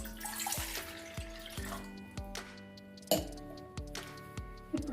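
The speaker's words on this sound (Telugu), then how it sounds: "ఇప్పుడు ఇందులో ఒక గ్లాస్ ఆఫ్ వాటర్ వేయాలి" A glass of water pours into a cooking bowl for mango ice candy, a short splash followed by several ringing clinks of metal vessels close by.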